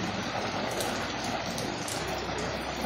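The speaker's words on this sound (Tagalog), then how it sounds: "Pag ganitong oras, ayan na naman. Ulan." Rain falling steadily on surfaces outdoors in the rainy season, a dense even patter and hiss heard alone at moderate level.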